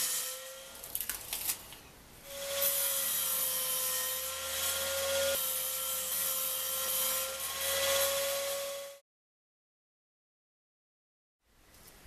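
Construction-grade wood segments for a banjo rim being cut with 30-degree angled ends: a steady, loud, whining cut lasting about six seconds after short scraping, then abrupt silence before another cut begins.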